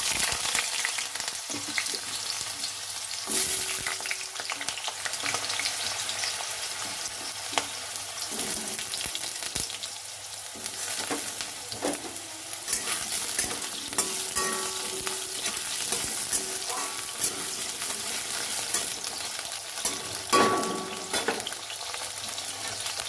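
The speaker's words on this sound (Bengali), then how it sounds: "কড়াইতে আমার সর্ষের তেল গরম হয়ে গেছে তো এখানে আমি আলুগুলো ভাজার জন্য ছেড়ে দিচ্ছি" Steady sizzling crackle of potatoes frying in hot mustard oil, continuous and close, with occasional stirring clinks and scrapes.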